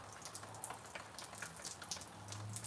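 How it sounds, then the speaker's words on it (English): Steady rain falls outside a patio, a soft continuous patter of drops with scattered sharper splashes, moderately close and fairly quiet, no voices. "It's been raining since early this morning."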